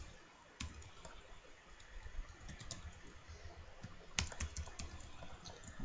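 Typing HTML code on a computer keyboard: quiet, irregular clicking keystrokes with a few sharper louder taps, alone against faint room noise.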